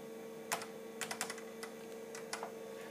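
Keys pressed on an IBM PC XT computer keyboard, several sharp close clicks in short irregular clusters over a steady background hum.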